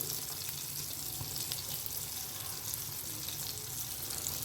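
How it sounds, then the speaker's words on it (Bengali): Green chillies and whole spices fry in hot oil as tempering for a pabda fish curry, giving a steady, fairly faint crackling sizzle throughout with no talking. "ফোড়নটা ভাজা হয়ে গেছে দেখো কাঁচা লঙ্কাগুলো ভাজা হয়ে গেছে"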